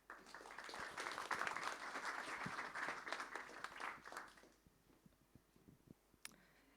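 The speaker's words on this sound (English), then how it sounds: "Round of applause." Applause from an audience at a Lithuanian defense industry event, moderately distant and steady for about four and a half seconds, then quickly dying away to a few scattered claps.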